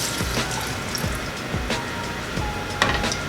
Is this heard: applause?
no